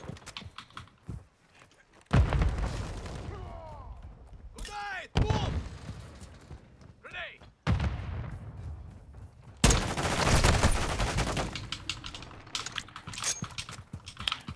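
Call of Duty Modern Warfare II gunfire cracks out in several sharp bursts and single shots, with mechanical clicks between them and a player talking over the game.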